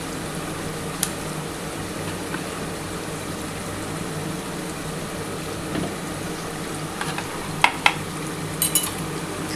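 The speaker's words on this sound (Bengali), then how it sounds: "সেই জলটা আমি দিয়ে দিচ্ছি, কড়ার মধ্যে ঢেলে দেবো।" Spiced yogurt marinade water poured into a hot kadai with chicken, giving a steady low sizzle and bubbling hiss with a few faint clinks of utensils.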